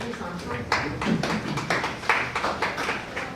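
Audience applause at a mayoral candidate forum: scattered, moderately loud clapping from a room of people, with a voice speaking over it.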